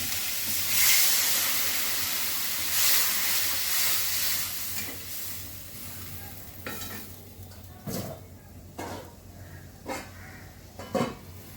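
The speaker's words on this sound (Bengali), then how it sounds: "ঝোল ফুটে গেছে" Rohu fish curry with ridge gourd bubbles in a pot, a steady hiss and simmer with a few sharp clinks of a utensil toward the end, no voices.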